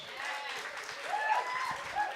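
Audience applause after a poetry reading at a live spoken-word event, a steady wash of many hands clapping, moderately loud and sustained throughout.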